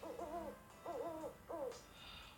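Owl hooting as a sound effect in a children's story, three wavering hoots in a steady rhythm, soft and slightly distant, with no speech over them.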